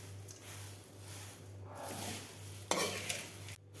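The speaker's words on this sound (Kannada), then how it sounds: "ಇವಾಗ ಒಂದು 10 ನಿಮಿಷ ತುಂಬ ಸಣ್ಣ ಉರಿಯಲ್ಲಿ ಇಟ್ಬಿಟ್ಟು ಈ ಥರ ತಿರುಗಿಸ್ಬೇಕು" Flattened rice (avalakki) dry-roasting in a pan on a low stove flame, stirred with steady scraping and rustling strokes over a constant low hum, with a sharper clatter near the end.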